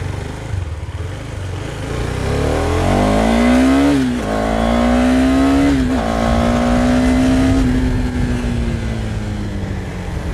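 A Husqvarna Vitpilen 250 motorcycle accelerates hard, its engine note climbing through rising revs with a couple of brief dips at gear changes, loud and close over steady wind rush.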